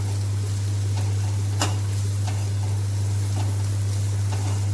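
Okra (bhindi) frying in oil in a pan, a steady sizzle with a few soft stirring scrapes and taps, close and moderately loud, with no talk.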